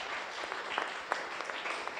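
A congregation applauds in praise of God during a Catholic church service, a soft, fairly distant patter of many hands clapping evenly throughout.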